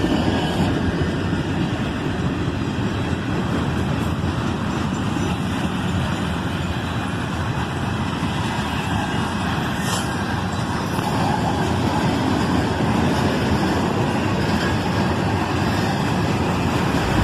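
A Norfolk Southern local freight train rumbles steadily past on a bridge, a continuous loud roll of wheels and cars with no talk.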